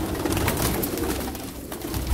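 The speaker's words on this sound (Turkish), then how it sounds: "Bak kocaman da kuşlar." Soft pigeon coos murmur through a steady, noisy background, with a few rustles of movement close by.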